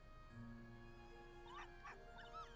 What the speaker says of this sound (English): Woof, woof, ruff, ruff.